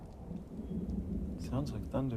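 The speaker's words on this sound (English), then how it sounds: "Sounds like thunder." Thunder with rain, a low rolling rumble that swells and settles under a soft wash of rainfall, heard indoors at moderate distance, joined near the end by a brief murmur of voices.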